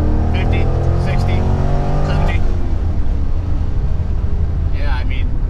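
A 2004 Chevrolet Corvette C5 with a roughly 350-horsepower V8 pulling hard through the gears, its loud engine drone rising in pitch before a shift, heard from inside the car with someone talking over it.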